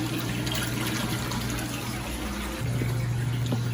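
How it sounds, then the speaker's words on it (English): CaribSea mineral mud dumped from a container into a 600-gallon reef tank refugium, heard as a steady churning wash of water with a low pump-like hum throughout. "I'm just going to put this whole container down in the water and just dump it out"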